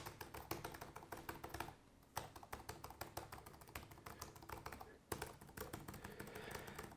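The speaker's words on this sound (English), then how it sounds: "the first thing I want to show is the overall responsiveness and sound of the keys" Rapid, steady clatter of Samsung Smart Keyboard Trio 500 keys being pressed up close, with two brief pauses in the typing.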